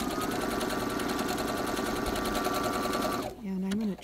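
A sewing machine running a serpentine stitch with two threads through a twin needle, whirring steadily and loud for about three seconds before stopping, followed by a brief voice.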